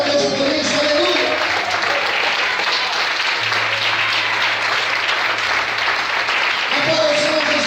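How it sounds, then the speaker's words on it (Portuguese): A church congregation applauds steadily for several seconds, a broad wash of clapping, with voices calling out over it and a low tone sounding partway through. "Vamos para aplaudir e exaltar a Deus por isso."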